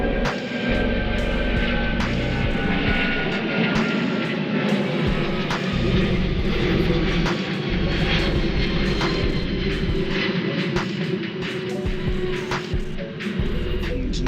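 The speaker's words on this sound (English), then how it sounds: "I live by an airport, close to an airport, so you got the plane going by." An airplane passes close to an airport as it makes a turn, its engines producing a steady, loud, unbroken rumble and drone that lasts throughout.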